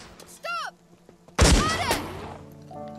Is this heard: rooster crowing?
no